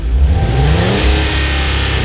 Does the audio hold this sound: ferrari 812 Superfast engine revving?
yes